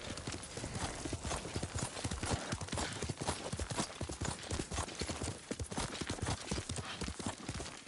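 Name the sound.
horse hooves clip-clopping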